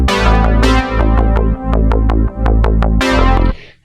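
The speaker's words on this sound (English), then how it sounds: "So then we added some synth bass, which sounds like this." Synth bass from a Juno synthesizer, a deep sustained tone that is repeatedly retriggered in short, even, punchy notes. It is loud, with brief dips between phrases, and it plays alone.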